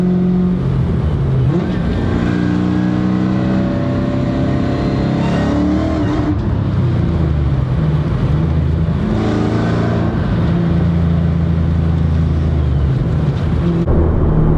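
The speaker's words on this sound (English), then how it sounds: "Car's got an exhaust leak. I don't know if you can hear it, but it's pretty bad." A Cobra's engine runs loud and close for the whole stretch, rumbling and revving with a harsh, raspy tone from a bad exhaust leak.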